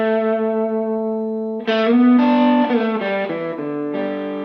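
Distorted electric guitar holds a long sustained note, then breaks into a run of bent, singing lead notes with echo, loud and close.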